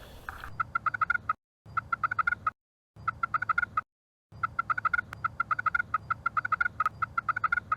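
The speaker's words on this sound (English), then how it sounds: "You want to put your striker down and slowly move it down with more pressure than you did with your circles for your clucks earlier" Slate pot turkey call worked with a striker dragged under pressure, producing bursts of rapid, sharp yelping notes separated by brief silences, close and clear.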